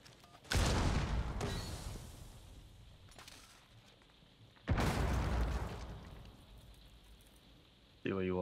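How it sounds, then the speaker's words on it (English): Two loud explosive blasts in Rainbow Six Siege, each a sudden broadband boom around a wall breach that fades over a few seconds, with another sharp burst at the end. "They're trying to blast me through the wall."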